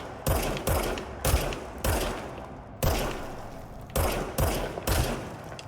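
Repeated gunshots from a gun in the video game Control, about eight sharp bursts in an irregular rhythm over a steady game background, loud and close with no talking.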